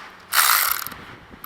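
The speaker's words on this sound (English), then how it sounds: "Tighten that bolt." A 12mm ratchet snaps through a short, quick burst of clicks while tightening a Honda brake caliper bolt, close and alone, followed by faint handling noises.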